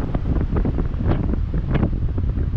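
Strong wind buffets a handheld action camera out at sea during a fishing trip, a loud steady roar with gusty rumbles and the wash of waves, no voices.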